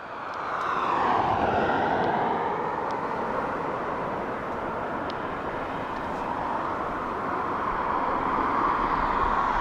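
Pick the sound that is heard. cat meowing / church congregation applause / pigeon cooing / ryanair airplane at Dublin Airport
ryanair airplane at Dublin Airport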